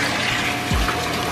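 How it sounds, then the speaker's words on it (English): Bath water runs steadily from a tap into a tub, a continuous broadband rushing hiss that stays close and even throughout, with a brief low thump partway through. "Is the water running?"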